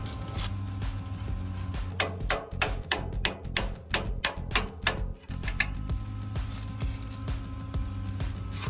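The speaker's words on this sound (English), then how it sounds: "We'll release the three bolts up top." Three top bolts on a 4Runner's King coilovers are loosened with a power tool, a rapid burst of loud rattling impacts lasting a few seconds against a low steady hum of the shop.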